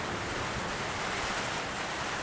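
Steady rain falls outside a shed, a soft, even wash of broadband hiss that carries on unbroken and fairly faint, with no voices.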